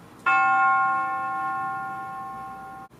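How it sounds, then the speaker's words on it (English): A single dark-toned synthesized bell in a music beat strikes once and rings out with a sustained, slowly fading tone for nearly three seconds before cutting off abruptly. "After that, I just added a dark sounding bell."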